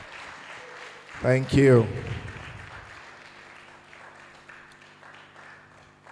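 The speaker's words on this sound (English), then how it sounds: "Please don't stop clapping." Audience applause fills the hall at a children's book launch, a steady wash of clapping running throughout while a speaker briefly offers thanks over it near the start.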